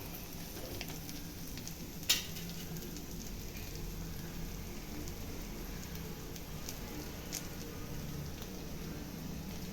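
Anchovies fry with curry leaves and garlic in a steady, quiet sizzle with a fine crackling hiss and a single sharper click early on.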